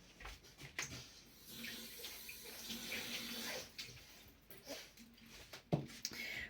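Tap water runs steadily over a small bowl used as a water dish for pet Achatina snails while it is rinsed, a continuous close splashing and hissing with irregular clatters and spikes as the bowl is handled.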